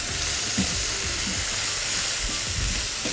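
A spiced filling being mixed in a hot pan, a loud, continuous sizzle with soft stirring scrapes underneath throughout.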